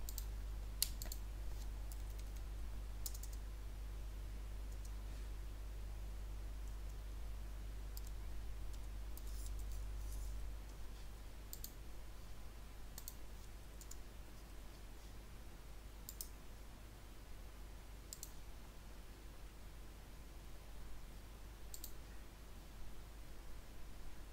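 Sparse, faint computer mouse clicks during AutoCAD drafting, scattered single and double clicks over a steady low background hum and hiss.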